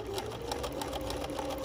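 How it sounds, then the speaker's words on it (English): A Bernina B 215 or 3–7 series sewing machine automatically stitching a buttonhole, a fast steady mechanical whir with regular needle ticks, close and moderately quiet, no talk over it. "So now all I'm gonna do is stitch."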